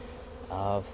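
Honey bees buzz loudly near at hand around a hive still fairly full of bees, a droning hum that swells midway and holds steady before fading slightly.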